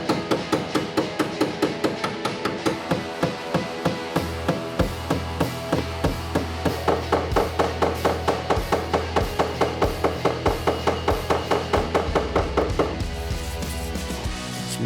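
Repeated sharp hammer blows, steady and fast, knocking a creased dent out of a corner of a Ford Orion Ghia body panel, loud and close with metallic ringing and no talk.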